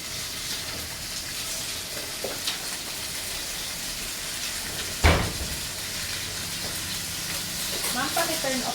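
Chicken frying hard on a high-fire stove in a Thai cooking class kitchen, a steady, close, bright sizzle with a sharp clatter around the middle.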